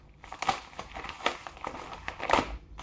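A padded bubble envelope is torn and opened, giving close, irregular crinkling and crackling bursts of plastic and paper over a few seconds, with no talking.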